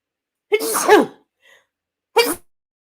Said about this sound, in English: I was trying to get the button before y'all heard me sneeze